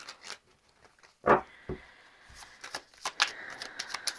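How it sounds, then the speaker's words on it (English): Tarot cards riffled and shuffled in a few short bursts, slightly sticky, papery flutters and soft taps close by, with light handling noises between. "it can be a little bit sticky to shuffle"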